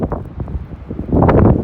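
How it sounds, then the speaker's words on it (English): Strong wind gusting outdoors, buffeting the microphone in a rough, uneven rush that swells louder toward the end. "It's very windy"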